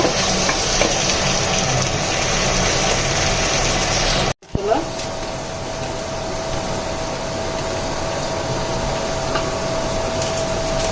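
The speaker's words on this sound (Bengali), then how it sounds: "পেঁয়াজগুলোকে সুন্দর করে ভেজে দিব।" Onions for biryani frying in a pan make a continuous close sizzle with a steady hiss, interrupted once by a brief dropout, and it carries on evenly without any talking.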